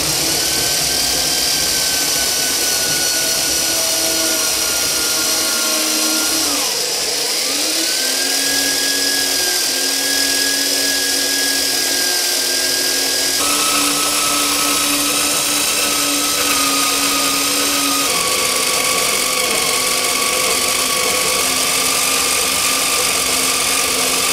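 Budget metal band saw from a discount store, priced at 99 euros, cutting through metal stock: a loud, steady droning whine with grinding tones throughout, the pitch dipping briefly as the blade bites harder.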